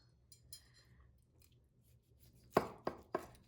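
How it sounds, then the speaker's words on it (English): A knife cutting rolled turkey roulades stuffed with spinach and cheese into pieces, a few faint soft strokes followed by three sharp close chops against a board, quiet surroundings. "cut the little rolls"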